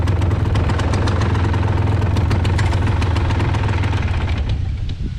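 A small ride-on vehicle's engine runs close and loud with a steady, knocking idle and a dense mechanical rattle, unbroken throughout and without talk; no distinct starting sound is evident.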